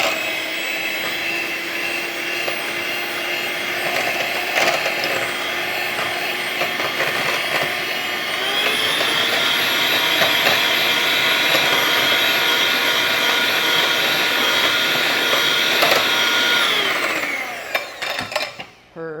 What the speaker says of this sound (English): Now we're going to use a hand mixer and mix that really well until it's glossy.